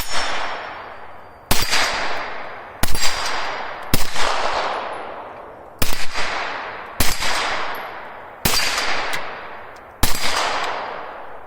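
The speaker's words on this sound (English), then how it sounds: "We're just going to throw some rounds down range now." A 9mm Beretta CX4 Storm carbine firing ball ammunition outdoors, eight loud sharp shots at an uneven pace of roughly one to two seconds apart, each with a long echoing decay through the trees.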